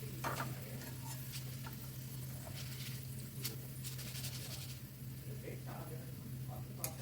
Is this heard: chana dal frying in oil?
yes